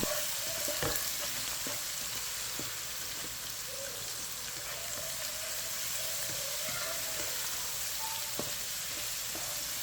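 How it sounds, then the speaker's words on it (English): Onion and ginger garlic paste fry in a pan with a steady close sizzle and a few stirring scrapes, in a potato and green peas rice dish. "Our onion has started to brown, so now add 1 tablespoon ginger garlic paste. Mix well and fry for 1 minute."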